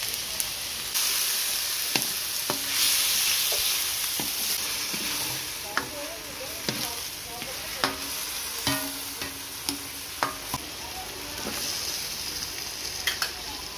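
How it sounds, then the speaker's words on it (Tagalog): Chicken sautés in a hot pan with a continuous bright sizzle and frying hiss, broken by a series of sharp clicks and scrapes as a utensil stirs against the pan. "Igisa na natin ating chicken"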